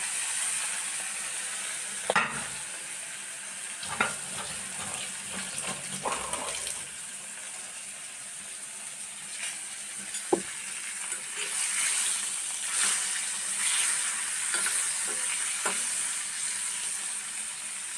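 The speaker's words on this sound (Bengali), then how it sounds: "নুন হলুদ মাখিয়ে মাছটাকে ভেজে নিচ্ছি।" Fish rubbed with salt and turmeric fries in hot oil with a moderate, continuous sizzle. Occasional knocks and stirring sounds come through, with bursts of brighter crackling toward the end and no speech.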